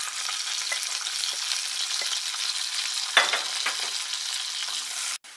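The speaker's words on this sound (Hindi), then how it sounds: "ग्रीन बीन्स को भी हम 2 मिनट भून के तैयार करेंगे" Green beans fry in hot oil with an even, bright sizzle, broken by a single clattering knock of a utensil before the sound cuts off abruptly.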